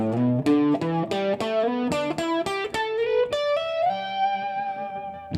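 Electric guitar with distortion and effects runs a minor pentatonic scale lick across several positions, a steady stream of sustained notes with smooth slides between them, played alone and up close.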